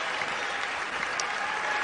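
A basketball crowd at a Stanford vs Arizona Pac-12 game applauds steadily, a dense continuous wash of clapping and cheering from a large arena audience.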